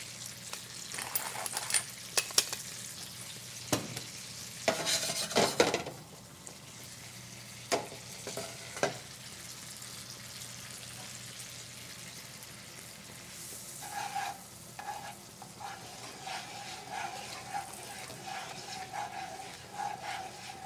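Butter sizzling in a pan as a sauce is stirred, a quiet, steady frying hiss broken by scattered clicks and knocks of a utensil against the pan, with no voices.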